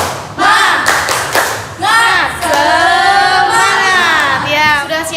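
Pupils in an Indonesian-language classroom perform a rhythmic group clapping routine: loud, close claps and thumps in patterned bursts, mixed with children's voices chanting and calling out together throughout.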